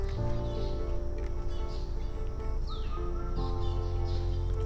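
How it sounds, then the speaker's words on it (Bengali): Birds chirp faintly in the forest of Bhawal National Park, a few scattered tweets and a short trill over a steady low hum of background noise. "ওইদিকে পাখির কিচির মিচির ডাক শুনতে পাচ্ছি"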